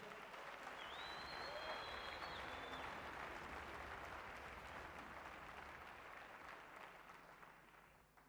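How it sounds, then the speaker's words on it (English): A navy gala concert crowd applauds in a steady, fairly faint wash of many hands that thins slightly toward the end, with a brief whistle-like tone rising early on. "I would like us to give a big round of applause for him"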